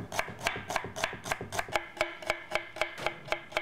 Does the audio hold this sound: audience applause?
no